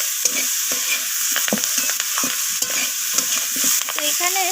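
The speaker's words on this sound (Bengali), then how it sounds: "তো সমস্ত মশলা এইভাবে সবজির সাথে নাড়িয়ে চাড়িয়ে আমি কষিয়ে" Spices and vegetables stir-fried together in a pan for a Bengali chorchori with rohu fish oil, kohlrabi, flat beans and eggplant; a steady sizzle with repeated scraping strokes of a spatula, close and loud, no voices.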